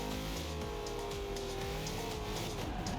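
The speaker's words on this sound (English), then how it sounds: "Except my truck is very loud." A loud truck with an iron-block LS1 Vortec V8 in the Forza Horizon 2 racing game, its engine roaring close with a shifting, rising pitch and a hint of tire squeal, continuous throughout.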